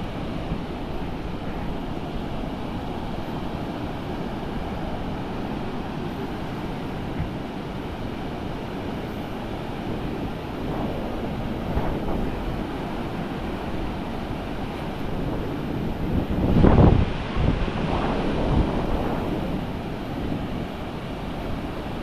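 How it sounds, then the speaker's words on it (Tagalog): Strong ocean surf roars continuously with steady wind noise on the microphone, and a slightly louder wave surge comes near the end. "Malakas pa rin yung alon."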